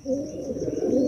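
Pigeons, including young birds of a fancy breed, coo steadily at close range in a loft, a continuous low murmuring with a faint high tone running above it and no talk.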